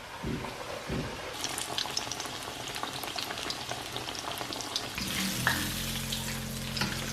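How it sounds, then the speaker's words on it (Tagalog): Breaded chicken schnitzel frying in a pan gives a steady, close, loud sizzle that continues throughout, with some stirring or handling noises and no talk. "Ay, sobrang ganda ng ating schnitzel."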